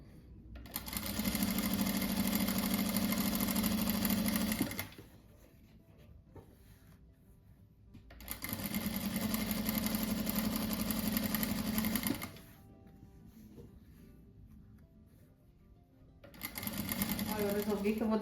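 A sewing machine stitching a car-shaped cushion runs in three long, steady, close bursts of rapid stitching, each lasting several seconds, with quieter pauses between them where a voice speaks.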